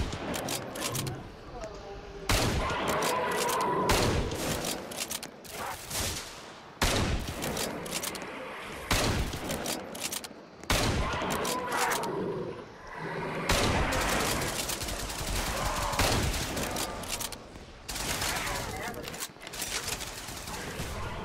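Rapid bursts of gunfire from a zombie video game, dense and loud, with repeated automatic volleys and brief pauses between them across the whole stretch.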